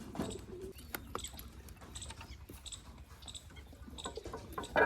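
Pigeons in a loft, with soft low cooing and shuffling scattered through the clip at moderate, close range, mixed with light rustling and a few sharp knocks.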